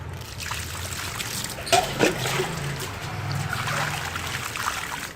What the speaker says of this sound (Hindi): तो अब फिर इसको पानी दे देंगे भर के।